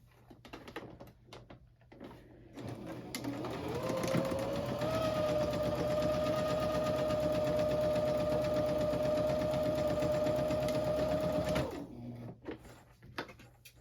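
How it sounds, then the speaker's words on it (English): A sewing machine joining fabric into a circle for a dress, spinning up after a few seconds to a steady, close motor whir with rapid stitching clatter, then stopping near the end. "you're going to sew that together to make a big old circle"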